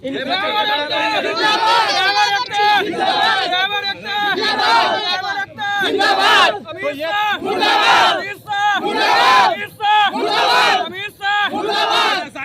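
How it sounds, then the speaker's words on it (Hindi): A road-blockade protest crowd chants anti-government slogans during a drivers' strike in Bihar, loud rhythmic massed voices with repeated surges and brief pauses throughout. "अमित शाह मुर्दाबाद का नारा लगाया जा रहा है"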